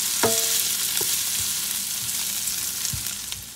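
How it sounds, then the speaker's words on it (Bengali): Onions frying in a pan give a steady, dense sizzle with a few soft stirring clicks and scrapes, close and continuous with no voices. "পেঁয়াজ ভাজা ভাজা হয়ে গেছে"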